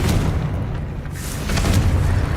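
A Confringo fire spell bursts in Hogwarts Legacy, a loud booming explosion with a deep rolling rumble that swells again near the end, heard alone without voices.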